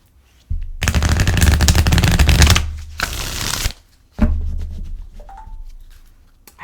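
Tarot cards shuffled close up in two long riffling bursts, followed by a shorter rustle of the deck, crisp and fairly loud, with no voices.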